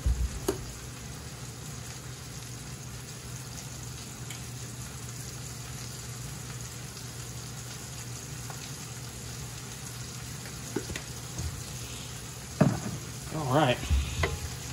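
Mushrooms fry in a pan with a steady, quiet sizzle and occasional stirring, and a louder burst of spattering rises near the end while someone says a brief word.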